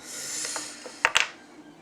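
Small hand tool clicking while bolts are tightened on an Xray RC car chassis: a soft ratcheting rasp, then two sharp close metallic clicks in quick succession, with no talk.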